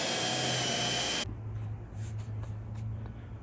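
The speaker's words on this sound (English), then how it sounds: "Now I can come back with that cutter and I can drill those out." A power drill with a spot weld cutter whines steadily, then shifts to a lower grinding hum as the cutter bites into metal, drilling out spot welds, close and continuous.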